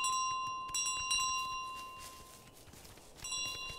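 A bell rings in Untitled Goose Game, a bicycle-style bell chiming in a few bright, separate dings, the first two close together and another near the end, over faint footsteps and quiet background.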